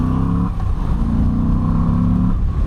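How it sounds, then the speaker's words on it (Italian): A Moto Guzzi V85 TT engine hums smoothly while riding on the road, with a steady low drone that shifts slightly in pitch as it goes. "Tornare in strada e sentire questo motore così dolce fa venire veramente voglia di viaggiare"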